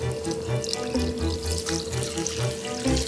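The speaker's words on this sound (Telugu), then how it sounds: "గట్టి అటుకులు తీసుకున్నాము తీసుకొని వీటిని ఒక టూ త్రీ టైమ్స్ కడిగి తీసుకుందాం" Tap water runs steadily into a kitchen sink while thick flattened rice (poha) is rinsed, a close continuous splashing rush with faint shifting sloshes and no speech.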